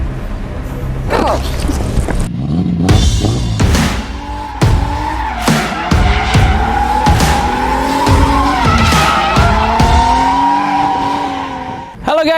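Mitsubishi New Xpander cars racing on a course, with loud engine roar, repeated squealing tire skids and rising revs through the run, and voices shouting over the noise.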